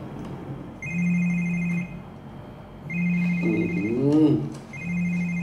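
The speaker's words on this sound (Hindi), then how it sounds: "भाई किसका फोन बज रहा है?" A phone rings in repeated two-tone bursts with short pauses between them, while a voice speaks briefly in the middle.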